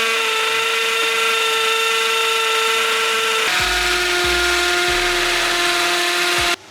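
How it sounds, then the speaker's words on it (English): A hammer drill with a standard bit whines steadily and close while drilling through a brick wall, its pitch dropping partway through as the bit bites, with rattling hammer-action thumps underneath. "go in with a standard drill bit on the hammer mode and drill through the brick wall"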